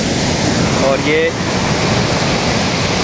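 Water rushes at high speed down the Chambal canal, a loud, steady roar filling the whole moment while someone speaks briefly over it.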